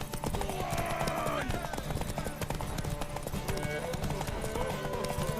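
Horse hooves clip-clop in quick rhythm in the video game The Witcher 3: Wild Hunt, amid busy game sound effects and clattering, with voices talking over the action.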